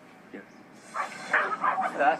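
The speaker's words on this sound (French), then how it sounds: "C'est un petit chien tout doux." A small, soft-coated dog gives short yips and whimpers during a handling session, the sounds quick and fairly close, mixed under steady human talk.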